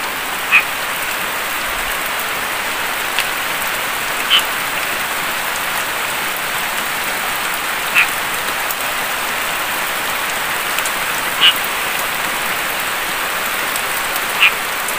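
Steady rain falls around a hut at night, a dense even hiss with a few sharp drip or croak-like clicks repeating every few seconds.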